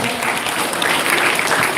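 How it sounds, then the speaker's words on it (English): Dense, sustained applause from a school event audience welcoming a chief guest, steady and fairly loud throughout with no break. "Let's give a big round of applause."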